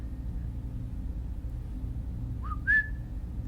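Rising two-note whistle from characters in a video game, set in a town called Neutrino Downs, sounding briefly and clearly near the end over a steady low rumbling background.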